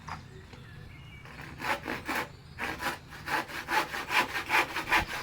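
Hand saw rasping through wood in steady back-and-forth strokes, starting faint and growing louder and quicker, close by with no talking.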